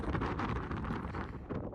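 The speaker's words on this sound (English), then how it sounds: "it's very windy up in the mountains" Strong wind roars steadily across a mountain road high in the Andes, a dense, gusting rush that buffets the microphone throughout, close and loud with no voices.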